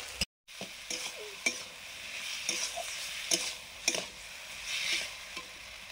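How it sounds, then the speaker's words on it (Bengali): Chopped onions sizzle steadily in a pan while a spoon stirs them, adding repeated scraping clicks at an irregular rhythm, close and moderately loud. "পেঁয়াজ কুচি দিয়ে ভালোভাবে নাড়াচাড়া"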